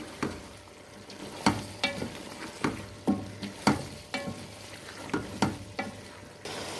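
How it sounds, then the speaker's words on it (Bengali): Chicken feet skin with whole garlic stirred in a pan, a spatula scraping and knocking in irregular sharp strokes over a soft sizzle, close and fairly loud. "এখন এটাকে আমি ভালো করে মিশিয়ে নেব"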